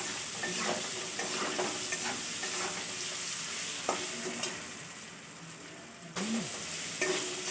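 Mango pieces fry with fish roe in a pan, giving a soft continuous sizzle broken by regular spatula scrapes and stirring taps, with a sharper knock near the end.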